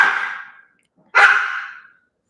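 A dog barks twice nearby, two loud, sharp barks separated by a short silence indoors.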